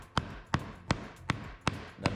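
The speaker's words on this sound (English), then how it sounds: "Hammer that down into place." Hammer blows drive a wooden part of a floating nightstand into place, six sharp evenly spaced knocks about every third of a second, close and fairly loud.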